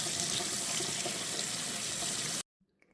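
Soursop leaves rinsed under a running kitchen tap, a steady loud hiss of flowing water that stops suddenly near the end, leaving near silence.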